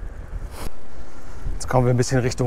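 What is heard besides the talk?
wind while riding an e-bike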